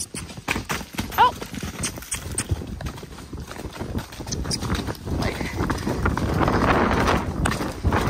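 A pony on a trail ride clip-clopping along steadily under saddle, hoofbeats close and continuous with creaking tack, while a rider talks over the sound.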